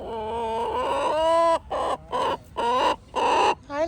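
Backyard chickens at evening, a short run of loud, close clucks and throaty vocal calls in uneven bursts with brief gaps, no talking.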